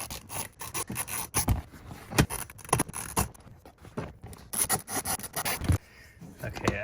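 Wrench loosening two 8mm bolts beneath the armrest of a BMW E46 330Ci convertible, a close, steady run of rasping ratchet clicks and scraping with brief pauses.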